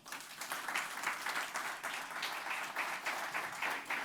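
An audience at the launch event of Chile's first recycling barometer gives steady applause, dense rhythmic clapping at moderate volume with no talk over it.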